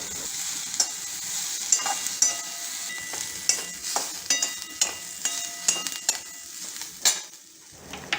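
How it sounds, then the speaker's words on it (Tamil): Pirandai (adamant creeper) and curry leaves are sautéed in a pan with a bright, continuous sizzle. Frequent scraping and clinking stir strokes come in an irregular rhythm, close and clear, with no voices. "இந்த பிரண்டை வந்து நல்லா கலர் மாறுற வரைக்கும் நல்லா வதக்கிக்கோங்க."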